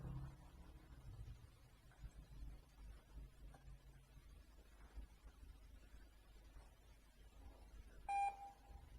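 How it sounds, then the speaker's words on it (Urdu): A computer's internal speaker gives a single short electronic beep, triggered by a C escape sequence in a running program, a clear tone near the end over a quiet background. "اس نے ایک ساؤنڈ بیپ دی ہے"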